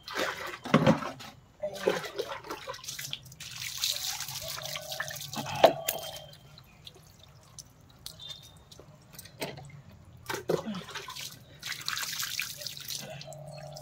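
Water is poured and dripped over a child's neck during a bath at home, with intermittent splashes, trickles and drips spread over several seconds at close range.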